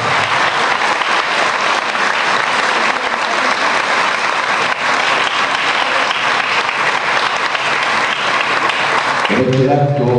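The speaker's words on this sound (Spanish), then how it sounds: "Aplaudimos a las alumnas y a la profe." Applause from the audience at a formal ceremony marking the 116th anniversary of San Pedro's declaration as a city, honoring the students and their teacher; dense, steady clapping fills the room and continues for about ten seconds before tapering off.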